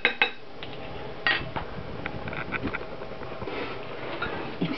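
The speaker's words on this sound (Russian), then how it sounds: "Все это вместе перемешаем." A utensil scrapes and clinks against a bowl while cottage cheese casserole batter with baking soda is stirred, a close, uneven run of soft scraping and occasional sharp taps.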